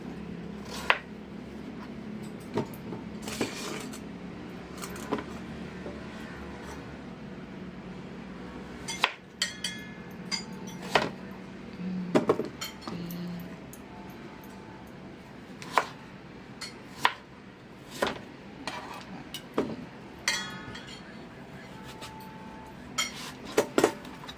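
Taro being cut on a board for a Thai taro-in-coconut-milk dessert, heard as a string of sharp knife chops and clinks spaced irregularly over a soft kitchen background.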